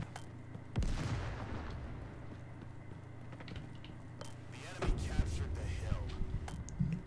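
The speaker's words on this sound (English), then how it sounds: "Oh, sniper rifle." A single sniper rifle shot cracks in a Roblox game, followed later by a second burst of impact-like noise, set against a steady game background hum.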